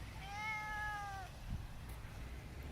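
A cat meows once, a drawn-out rising and falling call lasting about a second, fairly close over a steady background hum in a workshop, followed by quiet room noise and a small knock.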